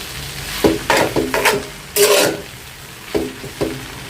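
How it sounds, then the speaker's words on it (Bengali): Tomato and onion frying together in a pan, with several sharp stirring scrapes and clatters over a steady close sizzle, bursts spaced irregularly through the short stretch. "টমেটোটা একটু পেঁয়াজের সাথে ভেজে নিছি"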